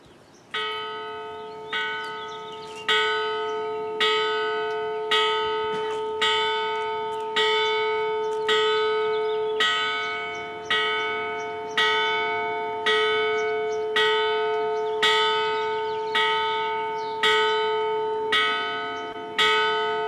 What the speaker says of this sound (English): Now we ask for everyone's silence as the bell tolls.